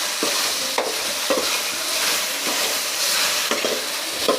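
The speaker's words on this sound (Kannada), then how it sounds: "ಸೊ ಬೆಂಡೆಕಾಯಿ ಲೋಳೆ ಮುಕ್ತವಾಗಿ ಬರುತ್ತೆ, ಫ್ರೈ ಆಗುತ್ತೆ." Okra frying in a pan for sambar, a loud continuous sizzle with rhythmic scraping strokes of a ladle stirring every second or so, close by.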